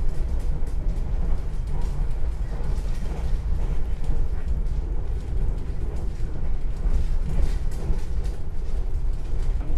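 Ciremai passenger train at Weleri station in Indonesia late at night, a steady low rumbling roar of rail cars and machinery holding at an even level throughout, with no voices.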